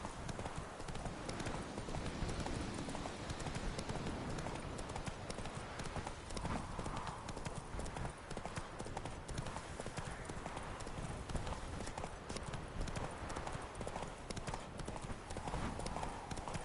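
Roach, the horse in The Witcher 3: Wild Hunt, trotting with a steady, continuous clip-clop of hooves, close and constant, set against a dense wash of in-game ambience.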